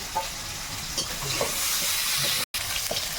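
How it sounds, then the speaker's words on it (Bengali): Garlic and green chili frying in a pan, a steady close sizzle and hiss with faint stirring scrapes and one brief dropout. "একটু ভেজে নিলাম"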